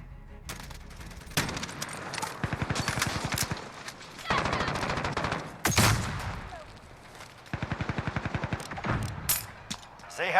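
Automatic weapon fire in Call of Duty Modern Warfare, from an M4A1 with the Polytope blueprint: several rapid bursts of rattling shots, loud and close, with brief gaps and background game noise.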